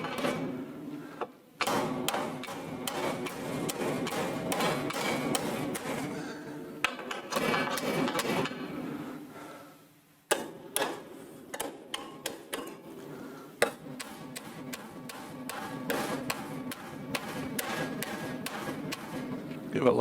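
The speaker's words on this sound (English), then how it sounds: "Give it lots of stress relieving taps" A hammer taps bent metal for stress relief in a shop, giving many sharp, close ticking strikes, some in quick runs and others spaced out, with a short pause midway.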